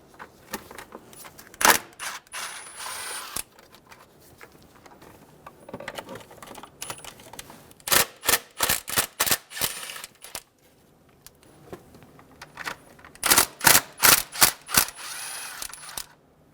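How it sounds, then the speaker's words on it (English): Ratchet clicks come in quick bursts as 10mm bolts are backed out of the intake box on a 2005-2015 Toyota Tacoma 2.7L L4. The clicking is sharp and close, separated by quiet pauses, with no voices. "We're going to remove the 10mm bolts for the intake box."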